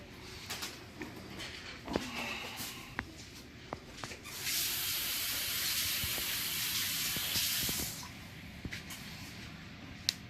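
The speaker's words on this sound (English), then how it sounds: "We're gonna fry them twice." Oxtail pieces dropped into hot oil for frying give off a steady, bright sizzling hiss lasting a few seconds, framed by softer clicks and clatter from the kitchen before and after.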